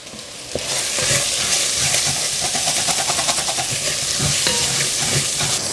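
Garlic sizzling steadily in a hot frying pan with beef stock powder nearby, a continuous close crackling fry with stirring scrapes, no talk over it.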